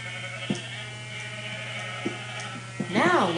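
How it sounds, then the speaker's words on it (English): Sheep bleating in a game featuring strange animal sounds, a single close wavering bleat near the end over steady background hum and a few faint clicks. "let's try the sheep."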